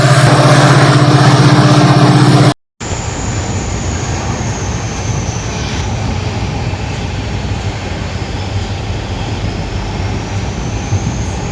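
A train rumbles along steadily with continuous rattling and clatter of wheels on track, loud and close, after a brief cut near the start.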